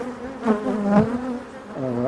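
Honeybees buzzing in a WBC hive opened for inspection, a close, steady droning hum with rising and falling individual wingbeats.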